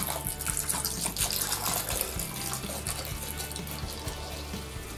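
Milk poured into a bowl with crème fraîche for a gratin dauphinois, a steady close liquid stream gurgling and splashing for several seconds without speech.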